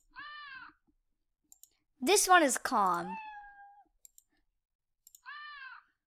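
A few cat meow sound effects from the Scratch programming software: a short one, then a louder drawn-out pair, then another short meow, separated by silence and soft clicks, with a brief spoken phrase.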